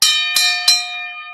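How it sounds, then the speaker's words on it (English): Three metallic strikes ring out in steady succession, each starting bright and then fading into a long, sustained shimmer. The tones are close and loud, with no talk over them. "Let me hit the gong."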